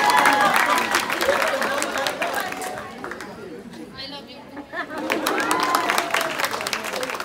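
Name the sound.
crowd applause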